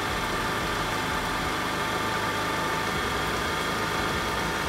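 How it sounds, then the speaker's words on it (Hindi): A Honda Activa scooter engine idles steadily during carburetor adjustment, giving a continuous, even mechanical hum with a faint rhythmic pulse and no voices. "यहाँ पर आरपीएम थोड़ा सा ड्रॉप हुआ है"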